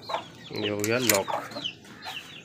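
Aseel chickens cluck as their coop is opened, a short burst of loud, close clucking mixed with a voice.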